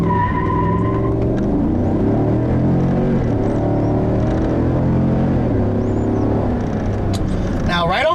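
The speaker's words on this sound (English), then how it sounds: "I'm really eager to show you guys how this new 8-speed automatic performs." A 2015 Cadillac Escalade with an 8-speed automatic accelerates, its engine note climbing and shifting through gears in a steady, loud drone, with a hint of tire noise near the end.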